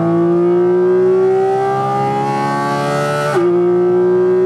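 Porsche GT3 RS flat-six engine shrieking as revs climb steadily toward 8,000–9,000 RPM, then a sudden drop in pitch at a gear change before it pulls again; loud and close, with no talking.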